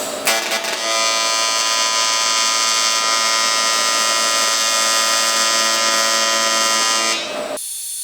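An Everlast Lightning MTS 225 welder tack-welds an aluminum cube with a loud, steady electric buzz and crackle that starts abruptly and holds for about six seconds before cutting off.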